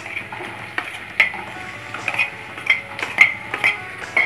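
Sliced onion and grated ginger sizzle in hot oil in a pan for a desi-style masala pasta, a steady close crackle broken by sharp clinks and scrapes of a utensil stirring, with no talking.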